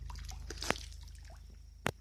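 Natural rainwater trickles off rock into a pool at Melkote near Srirangapatna, with two distinct, close drips standing out over a quiet, low watery murmur.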